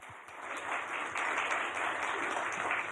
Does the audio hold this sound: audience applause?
yes